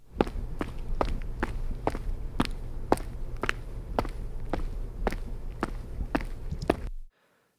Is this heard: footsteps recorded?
yes